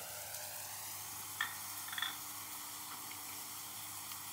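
Onion paste sizzling in hot oil for a Bengali spicy fish curry, a steady close hiss with a couple of brief sputters and no talk.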